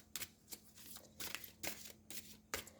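Two mixed decks of tarot cards being shuffled close up, soft quiet riffling bursts in an irregular rhythm of rapid flicks and pauses.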